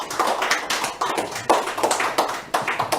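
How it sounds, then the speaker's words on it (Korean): A lecture audience claps in welcome before a history talk, loud, close, dense handclapping in uneven bursts throughout with no voices. "큰 박수로 모시겠습니다"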